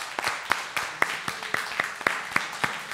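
A church congregation claps for a couple marking their 35th wedding anniversary, the sharp individual claps coming in a brisk, fairly even rhythm, moderately close, with faint murmuring underneath.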